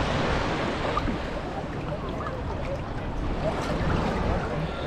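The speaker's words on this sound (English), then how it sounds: "Oh, some big waves coming in." Broad, steady roar of big ocean waves surging onto a beach at Grand Cayman, a continuous wash of surf with wind buffeting the microphone throughout, no voices.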